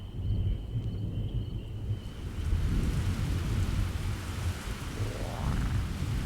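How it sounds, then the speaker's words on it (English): Steady rain pouring down, a dense broadband hiss with low rumbling underneath, continuous and fairly loud throughout with no voices. "I guess it's raining, so let's go listen to that rain."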